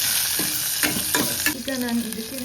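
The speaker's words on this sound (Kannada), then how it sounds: "ಇವಾಗ ಆಯಿಲ್ಗೆ ಸಾಸಿವೆ, ಜೀರಿಗೆ ಮತ್ತು ಹಸಿಮೆಣಸಿನ್ಕಾಯಿ," Mustard seeds, cumin, green chilli and garlic sizzle and crackle in hot oil while being stirred, a loud, dense, continuous frying hiss close up with a few spoon scrapes.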